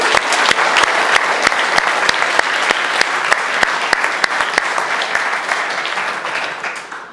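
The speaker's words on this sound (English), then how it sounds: "Big round of applause, please" Loud, sustained applause from an audience at a NetDevOps Days London 2023 conference, thick crowd clapping with a few sharp, near claps standing out, tapering off toward the end.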